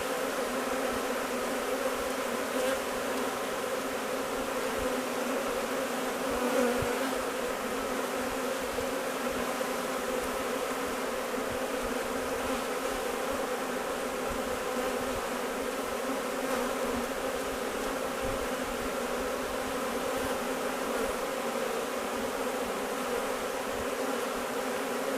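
Dense, continuous buzzing of many honeybees around a hive in spring, a steady droning hum that stays even for the whole stretch with no voices.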